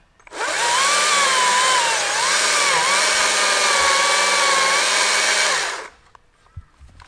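A Stihl MSA 220 C cordless chainsaw whines loudly and steadily for several seconds cutting a tree, its pitch dipping slightly as it bites, then cuts off, leaving faint rustling.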